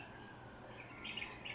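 Faint, distant birds chirping at dawn in Iligan over a soft, steady insect-like hum in a quiet outdoor setting.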